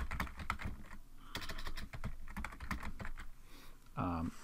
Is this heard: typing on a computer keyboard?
yes